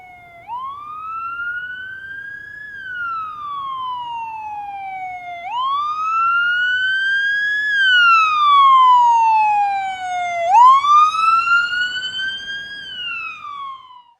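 An ambulance siren wails as the ambulance arrives at a hospital, three long rising-and-falling sweeps, loud and close, growing slightly louder toward the end.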